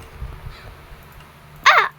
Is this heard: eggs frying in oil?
no